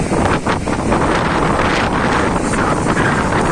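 Strong morning wind in Visakhapatnam near the port roars steadily against the microphone throughout, a loud, continuous rushing buffeting with no pauses.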